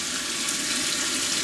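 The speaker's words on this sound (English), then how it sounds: "And final with hot water to rinse everything away" Hot tap water runs steadily into a sink to rinse dab pen parts, a continuous close, even splashing rush with no voices.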